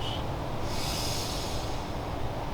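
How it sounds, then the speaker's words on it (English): A sharp, forceful inhale through the nostrils during a squat breathing exercise, one long, loud, close-up snorting draw of air with no talking. "as I'm pulling my hands in, I'm inhaling through my nostrils"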